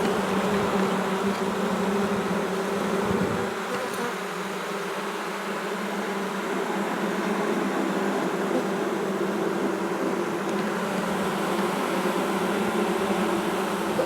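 A thick, steady drone of honeybees fills an open, fast-growing hive, sustained and close, swelling slightly as bees pass near.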